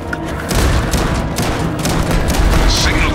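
Gunfire in Starfield during a fight against an incoming creature, a dense, continuous barrage of shots and booms held loud throughout, with a voice shouting over the din.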